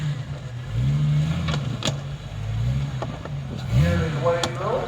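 A Jeep rolls through an obstacle course at a county fair's Jeep night, its engine rumbling and revving unevenly over several seconds while a commentator talks over it.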